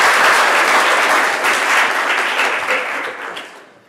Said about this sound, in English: So let's all give Bruce a round of applause.